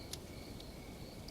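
Crickets chirp steadily in a quiet night setting, a thin, high trilling with a few sharper chirps standing out.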